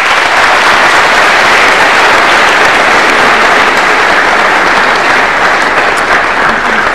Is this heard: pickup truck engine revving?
no